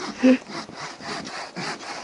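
A fine-toothed hand saw cuts through wood in steady back-and-forth strokes, a close rasping rhythm of about six or seven strokes with no talking.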